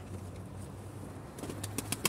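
Sivas pigeons taking flight, with a few sharp flapping-wing bursts near the end over a quiet outdoor background with a low hum, fairly faint and close.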